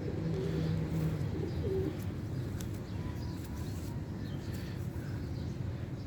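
A fancy sky pigeon with a bun tail, moulting, gives a low, soft cooing that runs steadily through the first couple of seconds. Its murmur continues faintly beneath a constant outdoor background hum, with no talk.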